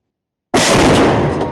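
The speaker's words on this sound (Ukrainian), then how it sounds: "Постріл." After a moment of silence, a single loud, sharp tank gun blast erupts and rolls on briefly before cutting off, fired on a front line near Kupiansk, Ukraine.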